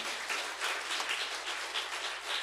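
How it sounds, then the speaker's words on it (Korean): A church congregation at a special retreat claps in encouragement, a steady, even patter of many hands that carries on without a break and sounds somewhat distant. "우리 빨리 일어나라고 격려의 박수 한번 보내주시면 좋겠습니다"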